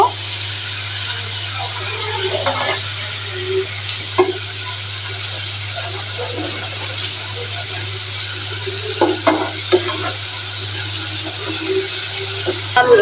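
Curry paste for a jackfruit dish sizzles steadily in hot oil, with occasional scrapes and stirring knocks against the pan over a constant hiss.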